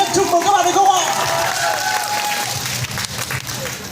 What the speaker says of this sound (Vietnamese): Một tràng pháo tay thật lớn nhất chúc mừng các bạn được không ạ?